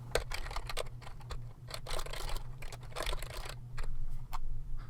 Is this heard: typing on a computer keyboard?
yes